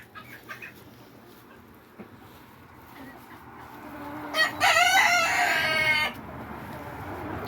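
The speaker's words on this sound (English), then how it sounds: "Baby chicken." Backyard chickens cooped up, with soft clucks early on, then a loud nearby rooster crows once for about two seconds; a faint voice and background hum sit underneath.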